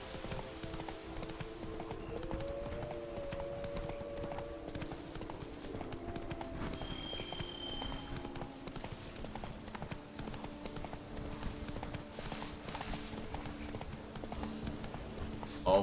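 Horse hooves clip-clop at a steady walking pace in The Witcher 3: Blood and Wine, faint and even, over soft sustained background tones.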